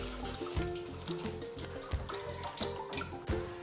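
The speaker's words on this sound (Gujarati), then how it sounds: "પાણીનું જુઓ ટબ ભરાઈ રહ્યું છે" Water pours steadily into a washing machine tub as it fills, a continuous rushing splash with small surges, heard alone and fairly close.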